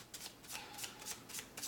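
Angel therapy cards are shuffled in a quick, soft riffling patter, close and quiet, over a short stretch.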